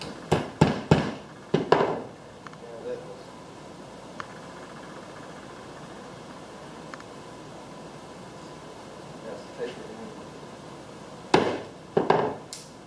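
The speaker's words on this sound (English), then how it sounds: "Just hammer this in here." Sharp ball peen hammer blows striking wooden wheel chocks in two quick clusters, one at the start and another near the end, separated by a long quiet stretch.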